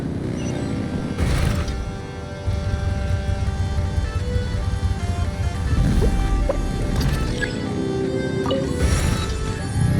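A boat engine revs in the game Genshin Impact, a sustained throaty drone mixed with sloshing water and layered music, with a couple of whooshing surges along the way.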